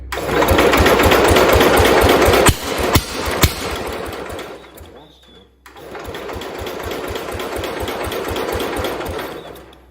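A Homelite T12 garden tractor engine cranks over in rapid, rhythmic chugging pulses, pauses briefly with a few sharp knocks, then resumes steadily, up close.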